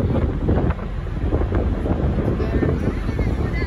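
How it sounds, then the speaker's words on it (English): Strong wind buffets the microphone on a boat crossing the ocean near Manhattan, a loud, constant roaring gust with the hum of the vessel beneath and people talking faintly. "It's so loud because of the wind."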